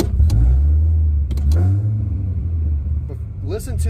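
A Cadillac STS engine fitted with a Roar pedal throttle controller rumbles at idle and rises in a couple of quick revs, with someone talking over it near the end.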